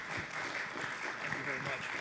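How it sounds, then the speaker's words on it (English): Audience applauding two candidates at a local candidate debate: a fairly quiet wash of clapping blended with a voice talking over it, lasting about two seconds. "join me in a round of applause for both of these candidates"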